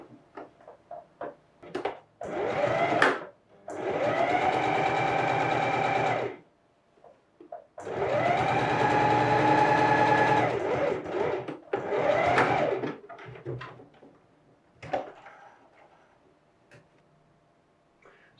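Sewing machine stitching a French seam in sheer fabric, two sustained whirring runs of a few seconds each, close and fairly loud, with clicks and handling noises around them.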